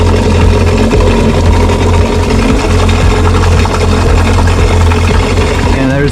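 Jet boat engines running loud and close while being flushed with water, a steady heavy droning hum with rushing water noise mixed in, constant throughout.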